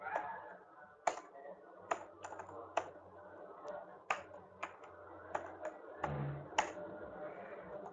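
Irregular clicks of typing on a computer keyboard, close and fairly quiet, with separate keystrokes spaced unevenly over a faint room background.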